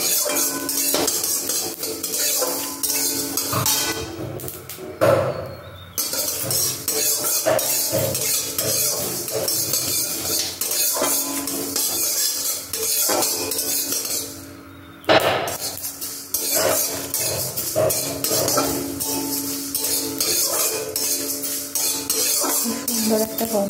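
Spices are fried and stirred in a pan for a kul chalta pickle, with continuous metallic scraping and clinking of a spoon against the pan. Two brief pauses break the otherwise steady, close stirring.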